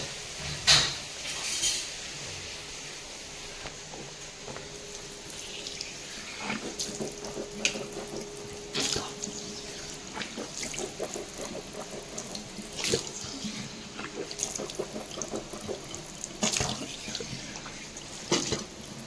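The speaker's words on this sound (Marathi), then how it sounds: "ब्रशला धुतो" A brush is rinsed under a running tap at a sink, with water splashing steadily and sharp clicks and knocks of the brush against the basin recurring throughout.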